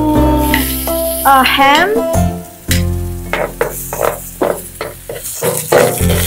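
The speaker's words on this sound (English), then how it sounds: "just fry the egg and instant noodle" Egg and instant noodles with green onion and chili fry in a pan, a steady close sizzle with stirring clatter, while a voice briefly talks over the cooking.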